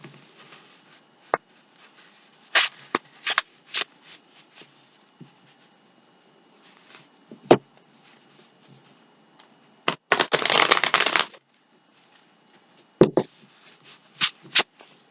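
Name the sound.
shuffling a deck of tarot cards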